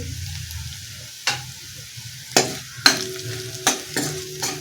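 Grated coconut frying with ginger-garlic paste in a pan, a steady sizzle under sharp scrapes of a spatula stirring at irregular intervals, close and fairly loud.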